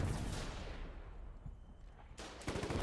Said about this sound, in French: Je sais pas exactement ce qui tire, c'est un canon.